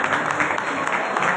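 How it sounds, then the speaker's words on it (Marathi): Audience at a village social association's 74th anniversary gathering clapping loudly for a named person, a brief dense spell of applause with voices mixed in. "जोरात टाळ्या वाजवा."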